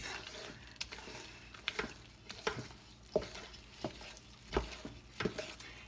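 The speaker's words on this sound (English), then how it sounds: "just mix it around, and it's going to be quite sticky" Sticky zwieback dough being stirred in a bowl, a run of soft wet squelching strokes at an uneven rhythm, close and fairly quiet, with no voices.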